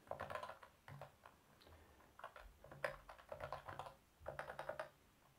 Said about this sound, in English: this has to be done exactly as what I'm typing out here